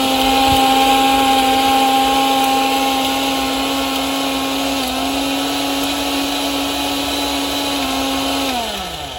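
An electric mixer grinder whirs loudly and steadily for several seconds while blending a chutney of green chilies, coriander, garlic and ginger outdoors in a farm field, then its whine drops as the motor winds down at the end.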